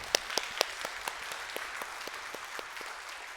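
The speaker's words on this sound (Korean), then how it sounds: "하나님께 영광의 박수를 올려드릴까요?" A church congregation claps in praise during a Sunday worship service, a sparse, fairly quiet patter of individual claps, with a few sharper ones near the start that then settle into scattered light clapping.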